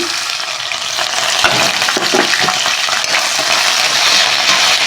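Onions, green chilies and coriander sizzle loudly in a pan for sabudana khichdi, a dense continuous frying hiss with faint stirring, close up and without speech.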